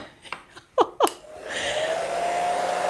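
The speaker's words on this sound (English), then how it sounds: "I'm gonna break out the blow dryer one more time." A handheld blow dryer switches on and runs with a steady whooshing drone, building to a constant airflow hum after a few brief clicks and knocks, used while refinishing a thrift store lamp.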